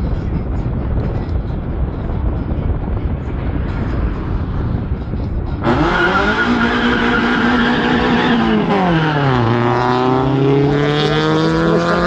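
A Renault R5 Turbo does a burnout at a 2013 tuning party: a loud, steady roar of tire squeal and rushing noise, then the engine note joins and rises and falls as revs climb.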